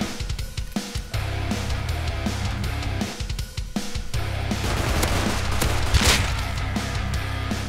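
Custom SMG fire in the survival game Rust rattles in rapid bursts and sustained strings, loud and close, mixed with busy in-game noise and a low hum, with no talk over it.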